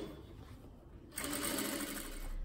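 A sewing machine stitching a child's dress kicks in midway and hums steadily and close, a quiet rapid mechanical drone with no talk over it.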